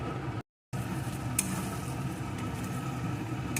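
Spices for a Bengali chicken kosha fry in a pan with a steady, close sizzling hiss that runs without break apart from a short silent gap near the start; one brief clink of a utensil cuts through.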